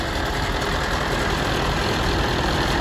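A Massey Ferguson 1150 tractor's diesel engine runs steadily nearby, a loud continuous broadband rumble with no pauses and no talk.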